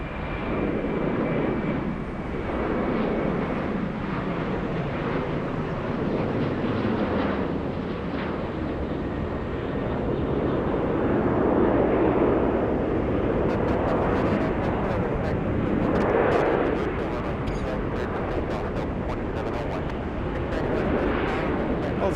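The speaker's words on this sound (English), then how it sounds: "Let's go for the takeoff." A Boeing 717 jet takes off at Atlanta Hartsfield-Jackson airport, its engines roaring in a broad, sustained rumble that swells and holds for over twenty seconds, heard from a distance with wind buffeting the microphone.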